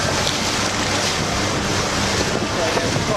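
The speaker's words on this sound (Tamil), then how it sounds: "திருமணத்திற்கு பிறகும் அந்த புதுமண ஜோடி வெனிஸ் நகர கால்வாய்களில் ஆனந்த படகு சவாரியில் ஈடுபட்டனர்" Boat ride on the Venice canals, a steady rush of water and wind noise against the microphone, loud and continuous with no clear break.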